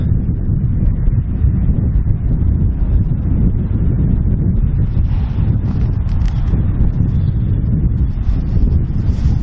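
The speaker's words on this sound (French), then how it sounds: "Vous pouvez peut-être entendre le vent" Steady wind roars and buffets close to the microphone at an abandoned restaurant, a dense low rumble with faint rustling above it, continuous throughout.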